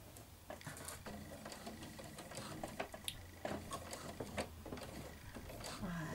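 Sewing machine topstitching the top of a pocket on a retro schoolgirl dress, running in short stop-start bursts of quick ticking stitches at moderate volume, with small handling clicks between runs.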